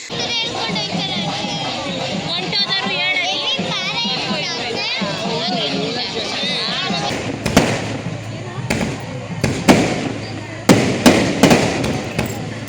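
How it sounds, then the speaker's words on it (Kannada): Firecrackers bursting during a village temple procession, a run of sharp cracks and pops in the second half over a steady din of crowd chatter and children's voices, with talk throughout. "ದೇವರು ಮೆರವಣಿಗೆ ಹೋಗ್ತಾ ಇದೆ, ಹಾಗಾಗಿ ಜೋರಾಗಿ ಪಟಾಕಿ ಎಲ್ಲ ಹೊಡಿತಾ ಇದ್ದಾರೆ"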